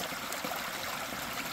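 A creek runs on a homestead after a storm, its water rushing and gurgling in a steady, close wash with no other sounds.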